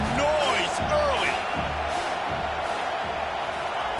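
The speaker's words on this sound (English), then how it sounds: "This crowd bringing the energy and noise early." A stadium crowd in a college football video game cheers and roars steadily, with whoops and shouts rising over a dense wall of noise, sustained and loud for the whole stretch.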